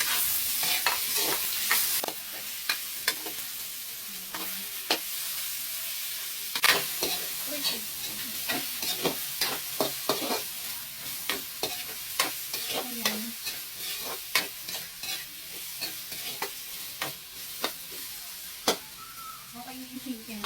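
Onions fry in oil for miki lucban, a continuous sizzle broken by frequent sharp scrapes and taps of a long ladle against the pan, with faint voices now and then.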